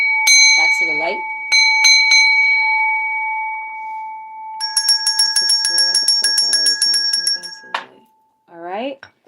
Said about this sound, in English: I rung the bell because I feel like it's time for you to wake up